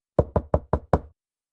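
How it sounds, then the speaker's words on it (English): Quick, fast knocking on a door at night: five sharp, evenly spaced raps in a steady rhythm, moderately loud and close, then silence, with no voices. "Then a knock, not loud, but fast and constant."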